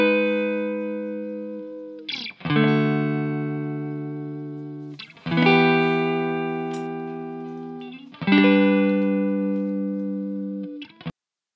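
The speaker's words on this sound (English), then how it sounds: "So this is what the chord progression sounds like after the EQ and amp simulator." Clean electric guitar chord progression run through an EQ and a Guitar Rig 6 clean amp simulator: three sustained strummed chords about three seconds apart, each ringing and slowly decaying, bright and close, with no voice.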